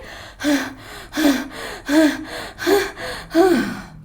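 People pant heavily in imitation of a tired, out-of-breath king during a children's read-aloud story. Five loud, close, breathy gasps come in a steady rhythm about every seven-tenths of a second, with no other talk.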